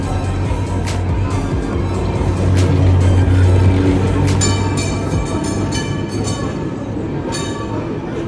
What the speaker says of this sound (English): again I saw the tram